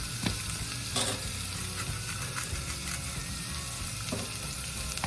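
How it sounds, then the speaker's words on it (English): Onion with salt sautés in a pan for a butternut squash soup, giving a continuous close sizzle broken by a few scraping stirs and spoon knocks. No one speaks. "I always like to put salt while I'm sauteing the onion first."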